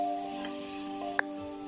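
Green chillies hit sliced onions frying in a pan for beef curry and ghee rice, making a soft, steady sizzle broken by one brief clink.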